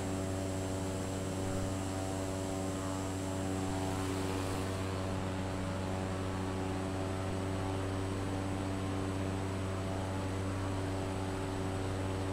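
Propeller airplane engine in Microsoft Flight Simulator drones steadily and loudly throughout, with a constant tonal hum and no other sounds.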